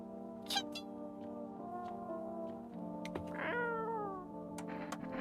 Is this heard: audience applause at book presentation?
no